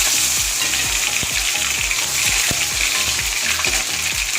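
Cumin sizzling in hot oil as tomatoes go in for a spicy fish curry: a loud, close, dense crackle and spatter with rapid popping bursts throughout, no voices.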